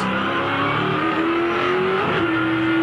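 Race car engine holding a steady note as the driver heel-and-toes down to third, pitch climbing slightly with a blip near the end; loud and close, with no talk.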